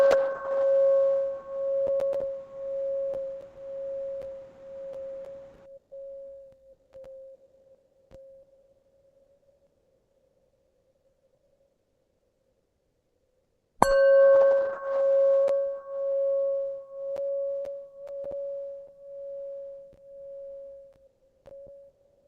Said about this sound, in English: I request Harshal sir to please invite the bell.